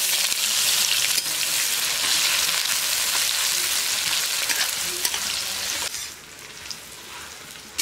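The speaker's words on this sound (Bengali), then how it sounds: "পেঁয়াজগুলো একটু লাল করে ভেজে নেব" Chopped onions frying in hot oil with cloves, cumin seeds and dried red chilli, a loud, dense sizzle with scraping stirs, easing somewhat toward the end.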